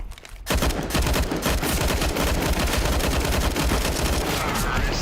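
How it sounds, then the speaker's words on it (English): Video game gunfight with rapid bursts of automatic gunfire, dense and continuous after a short quiet start, loud and close throughout. "that was a gunfight"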